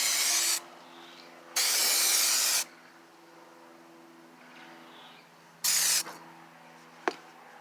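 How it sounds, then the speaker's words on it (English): Weld-through primer sprays from an aerosol can onto bare sheet metal on a 1958 Plymouth body, in three loud hissing bursts, two long and one short, with a sharp click near the end. "I'm going to hit this area with some weld through primer where I'm going to be welding"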